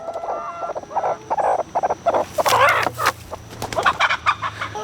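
An angry, puffed-up broody hen clucks and growls in a nest box, a run of sharp, agitated clucks and squawks close by, building to a loud burst in the middle before settling into choppy clucking.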